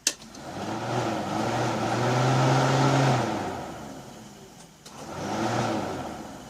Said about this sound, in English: Oh, I can hear the pump running.